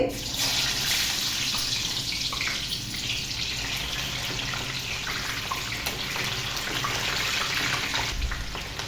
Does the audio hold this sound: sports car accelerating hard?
no